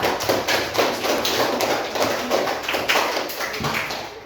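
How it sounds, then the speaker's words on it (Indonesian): Group applause from a classroom of students, a dense run of many hands clapping at steady loudness for a few seconds with no clear voices on top. "Tepuk tangan untuk kita semua"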